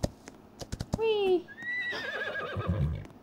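A tall paint horse whinnies in a video game, a clear descending neigh following a few hoof clops, with a second whinny after and a person talking alongside.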